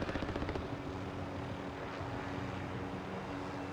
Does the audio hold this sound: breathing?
no